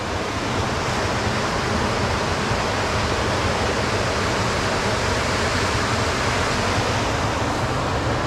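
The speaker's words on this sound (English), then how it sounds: "Wow, incredible rapids down there." Rushing river rapids near Cedar Lake in Algonquin Park on the Nipissing River make a steady, dense roar of churning water. It stays loud and unbroken throughout, with no voices.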